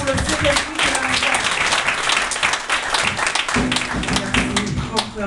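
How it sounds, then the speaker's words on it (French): An audience applauds a second-prize winner at a Haitian gospel event, dense continuous clapping that stays loud and steady throughout, with a voice faintly underneath. "trois applaudissements pour le second prix de la Marie."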